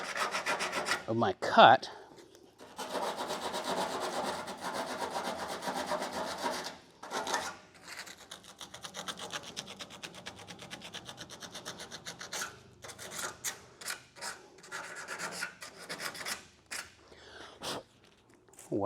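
Cut edges of stacked lead flashing layers are cleaned with faint, intermittent rubbing and scraping strokes that come and go over about nineteen seconds. A brief spoken remark is heard near the start.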